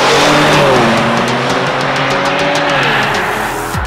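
Kia Stinger's all-aluminum 3.3-liter twin-turbo Lambda V6 revs loudly and close, its harmonic engine tones rising and falling steadily with a brief tire-chirp texture, no voices over it.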